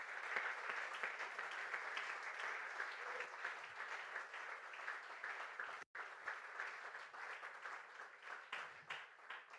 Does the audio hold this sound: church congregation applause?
yes